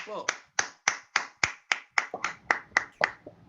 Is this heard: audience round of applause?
yes